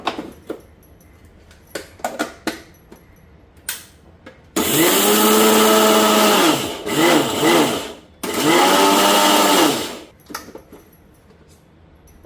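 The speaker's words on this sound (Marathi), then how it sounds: "चला आता मिक्सरला लावून घेऊया" A mixer grinder grinding roasted dried coconut roars in two long pulses with a short break between, preceded by a few light clinks and taps.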